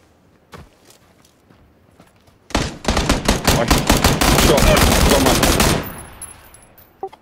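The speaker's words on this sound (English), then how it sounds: "I did get a clean shot on him with the SKS" Rapid, loud burst of SKS rifle gunfire in PlayerUnknown's Battlegrounds, a dense run of shots lasting about three seconds after a few faint earlier sounds, then cutting off abruptly.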